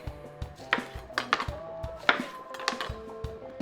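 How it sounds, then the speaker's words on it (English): A knife slices small lemons on a cutting board, giving a handful of sharp, close knocks of the blade against the board with soft juicy squelches between them, irregular and unhurried. "Grab a couple of these nice little lemons here. Give them a cut."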